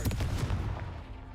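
A Confringo fire spell cast in Hogwarts Legacy, heard as a sharp blast with a booming, crackling impact that decays over about a second, loud and alone.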